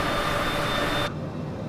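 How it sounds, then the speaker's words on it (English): A steady, loud roar of airplane jet engines heard from inside the plane during the climb, broadband and constant, with a faint high whine that cuts off abruptly near the end. "It's not inside the plane, it's just the engines. The engines are loud."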